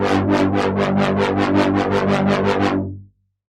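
A dark bass stab drenched in reverb with a subtle presence boost in the upper mids repeats in a fast even pulse of about a dozen hits, then stops abruptly into a short reverb tail.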